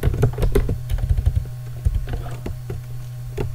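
Steady typing of JavaScript code on a computer keyboard, with a quick, uneven stream of close key clicks and no voices.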